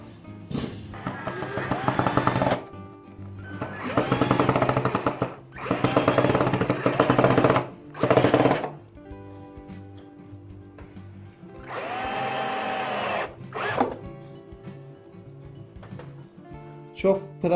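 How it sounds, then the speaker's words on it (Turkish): A power drill drilling into wood whirs in several loud bursts of a few seconds each, separated by brief pauses and a steadier lower motor hum. "Matkapla bu şekilde delme işlemi yapıyorsunuz"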